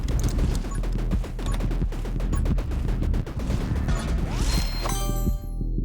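The bat gun fires nonstop in the video game 20 Minutes Till Dawn, a loud, dense barrage of shots and smashing impacts that crackles on for several seconds before breaking off.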